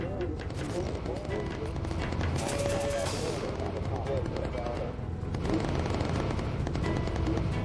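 Bomber turret guns fire in sustained bursts during a Bomber Crew aerial combat mission against incoming fighters, a loud rattling barrage with booms, heard under continuous talk.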